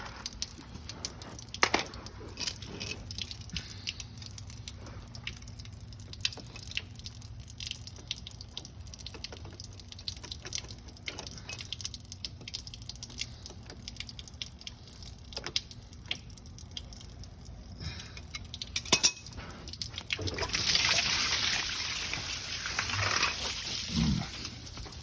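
Coolant water drains from the engine block plugs of a 7.3 Powerstroke diesel during a full system flush: a faint, steady trickle with scattered drips, building into a louder, rushing flow near the end.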